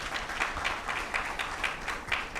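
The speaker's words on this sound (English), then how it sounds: "Can we now clap for the minister?" An audience at an agricultural portal launch applauds the Minister of Agriculture, with steady, moderately loud clapping from many hands continuing throughout.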